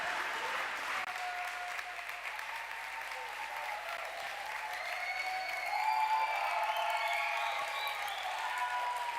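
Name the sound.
applause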